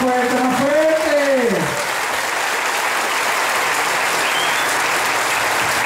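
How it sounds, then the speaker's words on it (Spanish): A church congregation applauds at a Catholic evangelization and healing mission, steady dense clapping filling the room throughout, with a voice briefly singing over it at the start. "Y ese aplauso para Jesús"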